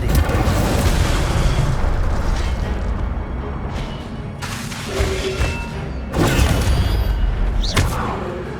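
Incendio fire spell cast in Hogwarts Legacy, heard as repeated fiery whooshing bursts and booming blasts of combat, loud and near, several separate eruptions spread across the stretch without talking.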